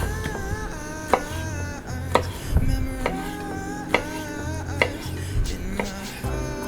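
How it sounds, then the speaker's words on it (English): Knife cutting cleaned squid on a board for a stir fry: crisp chopping strokes land roughly every second, close and distinct, over a faint background hum and a soft tonal drone. "just slice them like this, and it's good enough for the stir fry"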